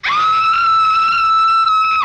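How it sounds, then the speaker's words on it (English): The bride in the 1935 film Bride of Frankenstein lets out a single loud, sustained high-pitched scream that holds steady for about two seconds and then cuts off, heard alone. "Even the bride, created specifically for him, screams at the sight of him."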